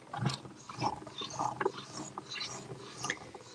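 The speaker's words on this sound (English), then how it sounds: "Let's go ahead and die cut that." Die cutting machine pressing through card, a faint series of mechanical clicks, creaks and ratcheting grinds in uneven bursts, quiet and close with no talk.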